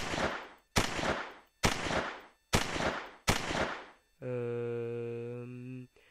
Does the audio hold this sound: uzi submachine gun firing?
yes